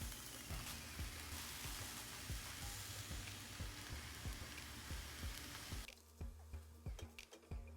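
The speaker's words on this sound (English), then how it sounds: "our onions and garlic is sauteed, so we'll go ahead and add our mushrooms to this" Mushrooms added to a pan of sautéed onions and garlic sizzle steadily and quietly, with a few soft clicks and taps of a utensil, then the hiss drops away near the end, leaving sparse faint knocks.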